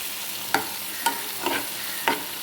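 Ingredients for chammanthi are sautéed in a sizzling pan, with four distinct stirring scrapes spaced about half a second apart over a steady frying hiss.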